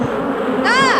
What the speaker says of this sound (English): Kill them, bees! Good bees.